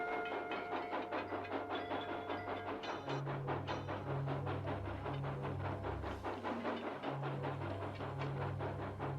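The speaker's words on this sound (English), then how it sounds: "Supply train." A government supply train rolls past in an old film soundtrack, a continuous rumbling clatter of wheels and cars with a hissing steam undertone and a rising, pulsing tone, steady and moderately distant.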